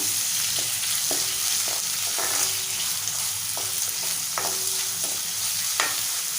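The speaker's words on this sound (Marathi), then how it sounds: "बारीक चिरलेला कांदा घेतला आहे तो घालूया परतवून घेऊया" Finely chopped onion hisses and sizzles in hot oil with cumin seeds, under a steady close frying sound broken by intermittent scrapes and taps of the spatula stirring the pan.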